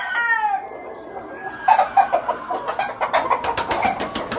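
Fighting roosters at a gamecock farm pen clucking and calling, a crow-like call at first, then a quick series of sharp clucks and squawks close by, repeating in short bursts with faint background noise.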